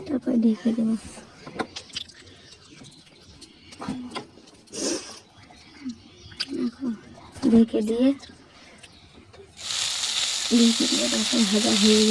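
Onions with salt and turmeric sizzle and crackle in a hot pan while being stirred, moving between quieter hissing and sharper scraping, and the frying swells into a loud, steady hiss near the end. Someone talks over it.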